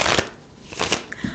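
Tarot cards are shuffled close up in a few quick riffling, slapping bursts, with brief pauses between them and no talking.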